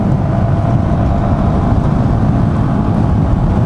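A Yamaha XT250 250cc motorcycle holds high speed uphill in fifth gear through traffic, its engine droning loud and steady under heavy wind rush.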